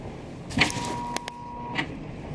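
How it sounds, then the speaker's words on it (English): Traffic light control box on Davidson Street in Montreal on Christmas night gives off a faint, steady electrical hum and whine lasting about a second. A few soft clicks and thumps sit over quiet street background. "Listen to that traffic control box."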